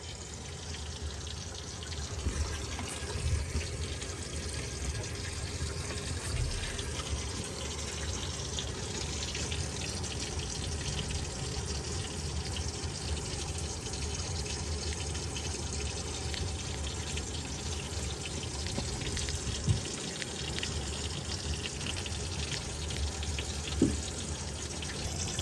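Water runs steadily down a tub and shower drain, a constant rushing wash heard close and alone, with a couple of faint knocks.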